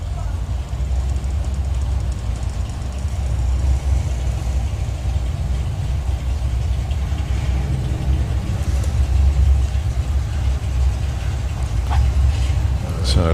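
A Dodge Coronet and a Chevrolet Camaro at a hot rod drag race, heard as a continuous deep engine rumble throughout, with a public-address voice talking over it.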